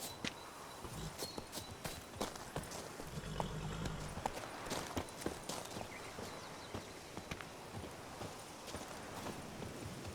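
Hooves of Roach, Geralt's horse in The Witcher 3: Blood and Wine, clip-clopping in a steady walking rhythm, quiet and close, with light background ambience and no talk.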